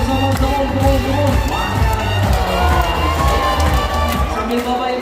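A crowd claps and cheers at a sea lion show at Ocean Dream Samudra Ancol, a steady, dense patter of applause with scattered shouts, heard close and fairly loud throughout.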